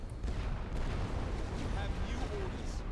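An area artillery barrage in the World War I strategy game The Great War: Western Front rumbles as a continuous low roar of distant booms, under faint talk.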